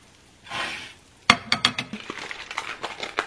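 A slice of large pizza set down on a plate, heard as a soft rustle followed by a run of close, sharp clinks and taps of crockery and cutlery, quiet and unaccompanied by talk.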